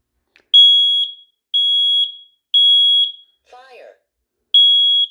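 A household smoke alarm under test emits four loud, piercing electronic beeps in an even pulse, broken once by a brief synthetic spoken announcement.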